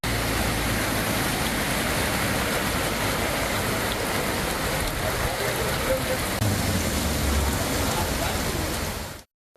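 Heavy rain pours in a Chennai-area town during a thunderstorm, with water rushing over roads: a loud, dense, unbroken hiss and wash that fills the whole stretch, then cuts off abruptly at the end.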